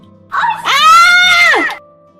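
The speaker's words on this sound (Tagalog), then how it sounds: "Bakit ka sumisigaw?" A person screams in a single long, loud, wailing cry that rises, holds for over a second, then falls away, heard close and alone in a horror story setting.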